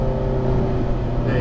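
Ferrari F430 F1 engine pulling on throttle around a racing circuit, a loud, steady, close drone running under an instructor's talk.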